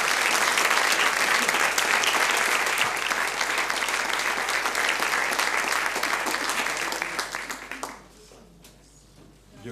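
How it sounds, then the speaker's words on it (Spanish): Sustained applause from a church congregation honouring a fellow brother, a dense wash of many hands clapping that holds steady for around seven seconds, then tapers to scattered claps and quiet. "Un gran aplauso entonces para nuestro hermano."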